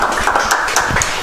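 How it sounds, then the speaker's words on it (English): Brief burst of audience applause at a FIFA 22 celebrity gaming event, a dense patter of many hands clapping at close range for about a second. "Give you guys a round of applause."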